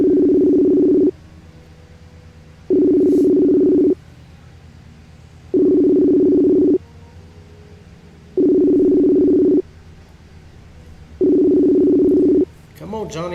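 A telephone's outgoing ringback tone sounds in five evenly spaced, loud steady beeps separated by pauses while a call is placed; a voice comes in at the very end.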